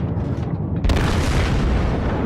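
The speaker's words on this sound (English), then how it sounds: "Keeping up a nice steady pace of fire." Battleship naval guns firing in a warship game, a single heavy deep boom breaking in partway through and rolling into a long, loud, rumbling roar.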